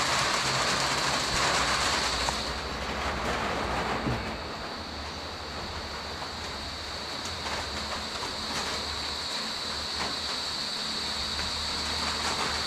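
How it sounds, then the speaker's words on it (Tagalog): Heavy rain pours down steadily outdoors, a dense, continuous hiss of drops that is loud at first and then eases slightly, with no voices. "Ang lakas na ng ulan."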